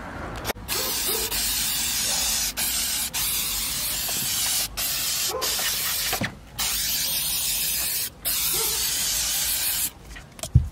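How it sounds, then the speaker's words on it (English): A spray bottle of interior cleaner hisses in long repeated bursts inside a Nissan 240SX, several sustained sprays separated by brief pauses, loud and close. "now I sprayed it really heavy"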